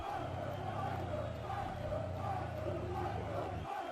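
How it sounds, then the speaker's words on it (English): Wrestling event crowd shouting and roaring in a packed venue, a steady loud wash of many voices throughout, dropping off briefly at the very end. "I'll tell you what, this crowd tonight, BK, it's a bunch of, I mean, they're rude."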